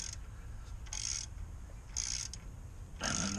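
Ratchet tightening a tie rod on a 2011 Ford F250, three short bursts of clicking with pauses between them, close and moderately quiet over a low background hum.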